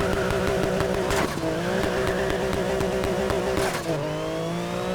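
A supercharged car engine in Need for Speed Heat, a steady, loud mechanical whine with a droning engine note that shifts pitch briefly twice as the revs change.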